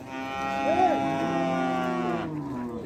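Cattle at a livestock fair in Ouricuri let out a long, loud moo close by, a single drawn-out low call that swells and fades over a murmur of crowd noise.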